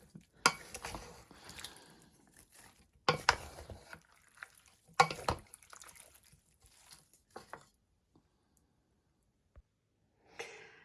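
Cucumbers for a Nizhyn salad are stirred in a bowl, giving a few wet, squelching swishes at intervals, close but soft, separated by quiet stretches.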